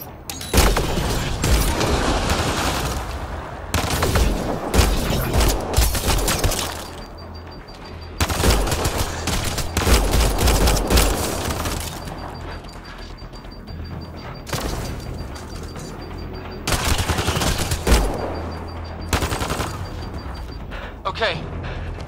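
Bursts of gunfire crack and rattle through a firefight in the video game Mass Effect: Andromeda, with rapid volleys and booms coming in waves over about twenty seconds while voices shout over the shooting.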